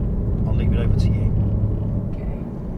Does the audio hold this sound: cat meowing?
no